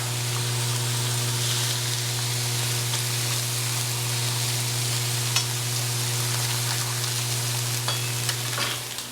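Lamb and beef gyro meat sizzles on an electric flat griddle at home, a steady dense frying hiss with a constant low hum underneath and a few faint taps near the end.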